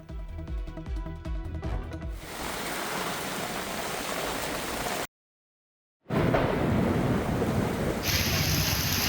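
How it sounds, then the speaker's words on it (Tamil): Heavy rain falls in Chennai as a dense, steady roaring wash that follows a short burst of music, drops out briefly into silence, then returns just as loud. "சென்னையில் பல்வேறு பகுதிகளிலும் திடீரென கனமழை பெய்து வருகிறது."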